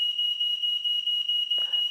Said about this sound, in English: Someone set off the smoke alarm in the house.